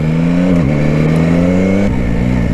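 A 2021 Yamaha Tracer 9 GT engine revving hard in one gear, a loud, close, sustained drone that climbs in pitch, dips briefly, then rises again.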